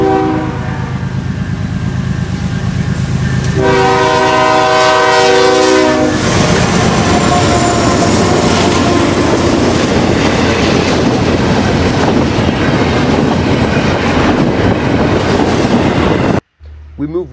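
Norfolk Southern freight NS 7592, eastbound with four locomotives leading stacks on the Chicagoland line, roars past loudly with a sustained horn blast, then heavy rumble and clickety-clack of wheels continuing until an abrupt cut near the end.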